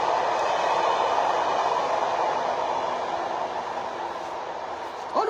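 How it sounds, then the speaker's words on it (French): Trains pass by with a continuous loud rumble and rolling wheel noise, steady and close, easing slightly toward the end. "3 trains"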